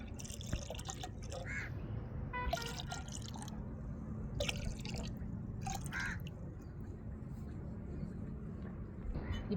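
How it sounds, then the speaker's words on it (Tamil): Milk pours and drips into a clay pongal pot at an outdoor Thai Pongal festival cooking, with continuous liquid splashing and faint bird calls in the background. "இப்போ பால் சேர்த்துக்கிடுவோம்."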